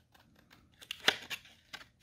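Scissors snipping the corners of a paper roller coaster column: a few soft crisp cuts close by, one sharp central snip standing out among lighter paper rustles, no talking.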